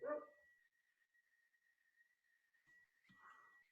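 A small dog barks outside at the front of the house during a recorded class, faint distant yaps at the start and near the end, with a steady high whine running underneath.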